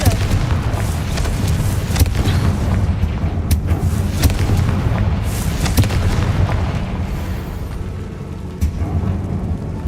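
Confringo blasting spell exploding in Hogwarts Legacy, a loud, continuous rolling rumble of deep booms with sharper cracks breaking through, like sustained thunder.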